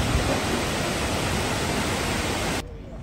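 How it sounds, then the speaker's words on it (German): A waterfall in the Ötztal valley of the Austrian Alps roars as a dense, constant wash of falling water, loud and even throughout, then cuts off abruptly near the end. "einen wunderschönen Wasserfall"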